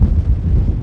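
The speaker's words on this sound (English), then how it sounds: "Windy day up here." Wind buffeting a microphone high on a mountain section of the Pacific Crest Trail, a steady low rumbling roar that fills the whole short moment without a break.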